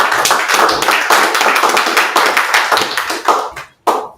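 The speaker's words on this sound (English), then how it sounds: "Let's give her a round of applause." A round of applause at a press conference, close and loud, with brisk, uneven claps from a modest crowd that runs steadily, breaks off briefly, then resumes with a final burst.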